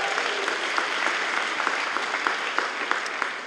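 Audience at a BCIT convocation ceremony breaks into steady, sustained applause, a dense wash of many hands clapping evenly throughout, with no speech over it.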